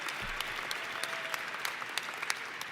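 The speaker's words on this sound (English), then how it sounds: "Clap for me" Sustained applause from an audience, steady patter of many hands clapping at a moderate distance, with no talking over it.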